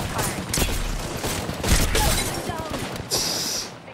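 Rapid gunfire bursts and impacts in an Apex Legends battle royale match, dense and loud with crashing hits and mechanical clatter layered together, continuous for several seconds.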